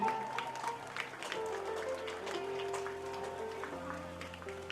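Steady clapping from an audience at a primary school anniversary ceremony, a continuous patter with a soft background hum.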